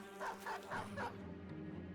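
Dog barks from the Battle Brothers video game, a quick run of about four short yips and bow-wows close together, faint and heard alone.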